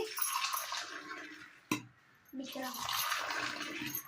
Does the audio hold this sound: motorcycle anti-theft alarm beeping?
no